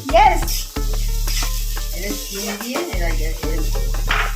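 Spicy stir-fry of beans, onion, tomato and spices sizzling in a pan, a continuous hiss broken by repeated scraping stirs and clinks of the utensil, close and loud.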